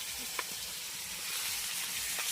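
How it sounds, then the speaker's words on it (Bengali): Golda prawns coated in turmeric fry in hot oil, giving a close, steady, dense sizzle with a few faint pops and no talking. "এটাকে ভালো করে ভেজে নেওয়া হচ্ছে"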